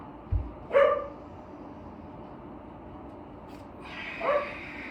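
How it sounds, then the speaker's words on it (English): Two dog barks at a distance, one early and one near the end, with quiet outdoor background noise between them. "Listen to the beautiful sounds of the dogs barking."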